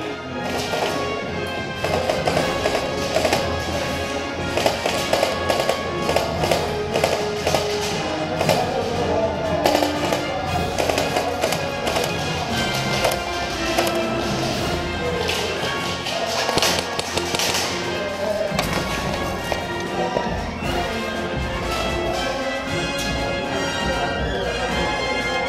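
Airsoft guns fire during an attack-and-defend game, with bursts of sharp, rapid tapping pops at varying distances that go on almost continuously over a busy outdoor background.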